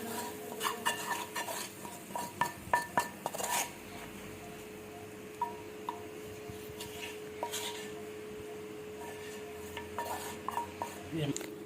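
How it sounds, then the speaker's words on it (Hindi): A spiced potato filling for samosas is mixed in a pan, with a spoon scraping and clattering against the metal in uneven bursts over a constant low hum, growing quieter partway through. "इसके अंदर मिक्स कर देना है आलूओं के अंदर"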